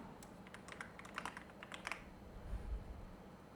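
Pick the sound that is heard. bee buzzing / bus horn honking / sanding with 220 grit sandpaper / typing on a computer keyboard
typing on a computer keyboard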